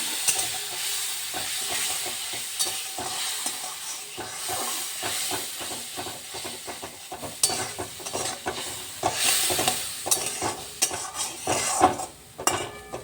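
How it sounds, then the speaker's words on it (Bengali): Spice paste of salt, turmeric and green chili fries and sizzles in a pan for a Bengali prawn malai curry, with steady hiss and repeated scraping stirs and clinks of a spatula against the pan, close and fairly loud, with no talking. "মশলাটা এখানে ভালো করে কষুক একটু।"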